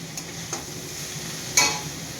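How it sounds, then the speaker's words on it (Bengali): Potatoes and onions fry in oil with a steady low sizzle and a few short stirring clicks, close and moderately quiet, with no voices. "এখানে তোমার আলু পেঁয়াজ করি ভাজা চলছে"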